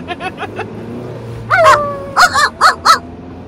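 A dog barks out of a car window in several short, loud yips and barks, with light whimpering sounds before them and faint engine hum below.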